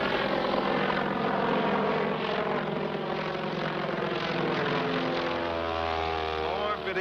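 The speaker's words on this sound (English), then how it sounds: "it's noisy airplanes" A loud, steady propeller-engine drone fills the whole stretch, a low rumble that seems to shift slightly in pitch toward the end, as if passing overhead.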